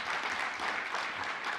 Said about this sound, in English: he deserves a round of applause for putting all this together